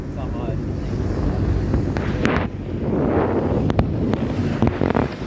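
Sea waves along a Swedish shoreline lined with houses and boat clubs, heard from a sailing boat as a rushing wash mixed with strong wind buffeting the microphone and a few sharp knocks.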